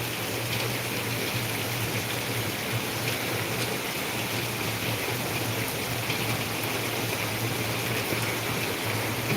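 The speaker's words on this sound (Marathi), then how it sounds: "सगळं चेंबरचं पाणी बाहेर यायला लागलं" Flooded drainage chamber overflowing during a torrential downpour in Ahilyanagar, a constant loud rushing of water mixed with heavy rain, with no voices.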